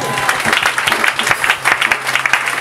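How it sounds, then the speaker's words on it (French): A church congregation bursts into loud, dense applause at close range, many hands clapping in a continuous rapid patter with a few voices mixed in. "Dis Amen, acclame le Seigneur Jésus."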